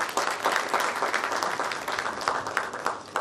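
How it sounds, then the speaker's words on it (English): Audience at a university award ceremony for a startup funding competition applauds, a dense, continuous patter of many clapping hands filling the space at steady loudness. "I think he deserves a round of applause."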